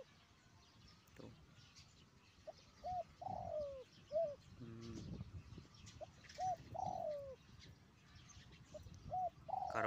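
Wild white turtle dove cooing outdoors, repeated soft coos in short phrases, moderately distant over faint ambient background noise.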